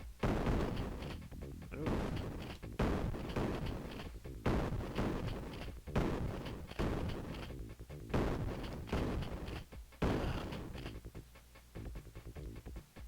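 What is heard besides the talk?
shotgun fire in a video game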